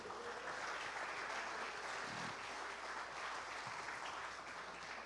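A church congregation applauds the Lord during a sermon, a steady, dense wash of clapping held at an even level throughout, with no voices rising above it.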